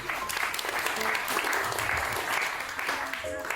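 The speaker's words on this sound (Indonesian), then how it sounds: "Tepuk tangan dulu buat teman-teman IMM." A crowd claps steadily for a few seconds, dense and close, with voices murmuring underneath.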